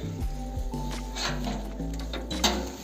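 A small single-cylinder engine on a Kentavr 160V walk-behind tractor, started after four months unused, chugs and rattles at a steady idle, close by, with a few clanks and mechanical knocks over the running drone.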